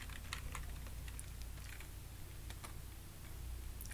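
Someone types code on a computer keyboard, a steady stream of light, quick key clicks at close range with no talk, fairly quiet overall.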